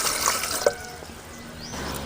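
Hot water poured from a vessel into a pan on a stove while making ragi idiyappam, a brief splashing gush that tapers to a trickle.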